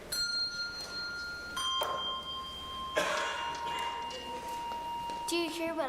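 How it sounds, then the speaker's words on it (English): Bells toll through a night scene in a children's musical: several resonant strikes ring out one after another, each leaving a long sustained hum layered over other musical tones. "Suddenly, 3 bells tolled through the chill of the night air."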